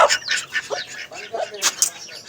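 Ducks quacking in short, close, harsh bursts during a scuffle with an aggressive hen on a poultry farm, the calls coming in quick irregular clusters with a person's voice mixed in.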